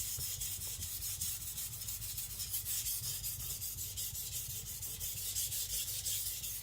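Continuous scraping strokes of a Tojiro Shirogami nakiri being worked across a whetstone, an even, close rasp that barely pauses over the whole stretch, with no voices.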